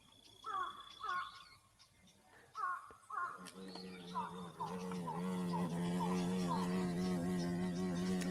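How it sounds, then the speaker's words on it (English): Large stinging insects give a deep, steady buzzing drone that builds and holds over the second half, after a few earlier harsh caw-like calls, all fairly faint. "Can you hear how deep that buzzing is, Erica?"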